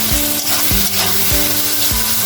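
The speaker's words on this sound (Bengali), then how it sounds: "শুধু শুটকি ভুনা পেঁয়াজ দিয়ে।" Dried fish (shutki) and onion sauté in a hot pan with a steady, loud sizzle, punctuated by regular stirring scrapes roughly every half second.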